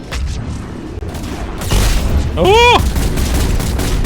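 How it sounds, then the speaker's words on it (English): In the video game Mass Effect 3, set in the town of Harvest, booming grenade explosions mix with bursts of gunfire. A loud blast rises partway through while a voice exclaims over the combat. "that's a lot of grenades"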